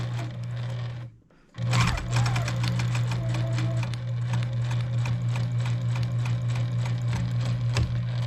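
A sewing machine stitching a small quilt piece for a beginner sampler quilt, humming close after a brief pause, then running in a steady rapid needle rhythm.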